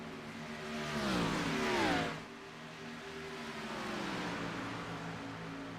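A race car accelerates out of the pits at Charlotte, its engine rising in a quick, fairly faint whine that then settles into a steady, distant drone.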